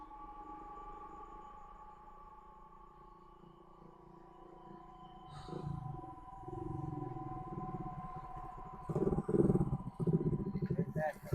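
A motorcycle passes on a steep hill road, its engine rising from a faint, steady drone to a louder, rougher rumble over the last few seconds.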